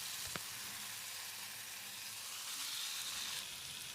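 Boiled potato pieces fry in tomato masala, giving a steady, close hiss and sizzle with a faint stir click early on and no voices.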